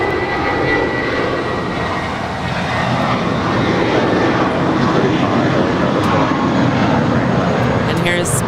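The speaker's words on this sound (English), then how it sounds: "And here's Spirit Wings 471 off to Dallas Fort Worth on an A320." Spirit Airlines Airbus A320 departing LAX bound for Dallas Fort Worth, in Fun Time livery: a loud, steady jet engine roar throughout, with people talking faintly over it.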